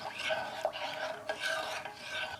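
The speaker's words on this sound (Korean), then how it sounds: "온기가 남은 상태에서 잘 저어주세요." Warm kimchi broth with vegetable seasoning is stirred, soft repeated scraping and swishing strokes at a quiet, close level with no speech.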